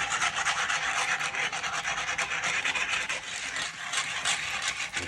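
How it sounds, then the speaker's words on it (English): Whisk working milk and flour gravy in a pan, a fast, continuous scraping and rubbing against the pan bottom, fairly close and steady throughout. "we want to whisk it and make sure that the milk and the flour isn't sticking at the bottom of the pan"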